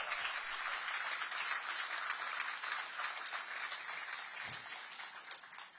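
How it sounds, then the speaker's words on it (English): An outdoor crowd applauds at a groundbreaking ceremony for the Bridge District in Ward 8, a steady, moderately distant wash of clapping that continues evenly throughout. "Give him a round of applause."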